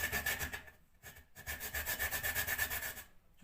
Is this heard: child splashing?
no